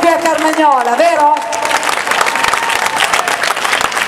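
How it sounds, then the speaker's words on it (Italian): An audience at a Rueda event in Carmagnola breaks into dense, sustained applause after a voice briefly speaks at the start, the clapping continuing steadily to the end. "allora un grossissimo applauso"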